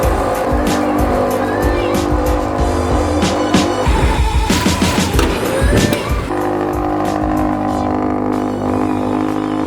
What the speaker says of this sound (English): that's just typical Boxer engine startup